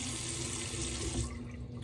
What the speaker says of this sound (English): So I'm just gonna do a cold water rinse here